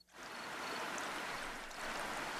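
Steady, continuous rush of flowing water in the video game Plentiful, a broad even wash like a stream running throughout, moderately loud with no talk over it.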